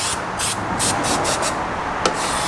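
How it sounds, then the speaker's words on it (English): Brake cleaner sprays in steady hissing bursts onto a BMW E46 engine bay fitted with a 2JZ swap and a Mishimoto catch can. The bursts are close, loud and continuous, with one brief knock near the end. "I'm just going to hit it with some brake cleaner."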